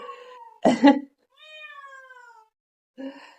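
Rescue kittens meow in several distinct cries, the middle one a long, falling, tonal call, close and fairly loud, with brief human speech-like sounds before and after.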